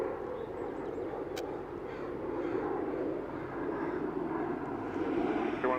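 Air Canada airliner departing Vancouver International Airport, its engines giving a steady, fairly loud broadband roar that builds slightly over the span, with no talk.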